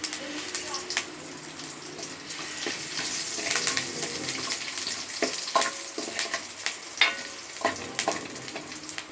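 Oil sizzles and crackles steadily in a pan as chopped garlic, cumin seeds and curry leaves fry, with occasional stirring scrapes and a voice speaking now and then.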